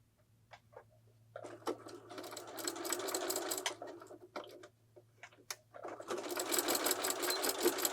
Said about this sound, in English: now we're going to stitch all the way around the top using a 1/2 inch seam allowance